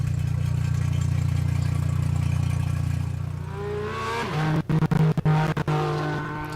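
Race car engine at the Pikes Peak hill climb: a steady low drone for the first half, then rising, shifting revs with sharp momentary cuts as the car climbs, heard fairly close.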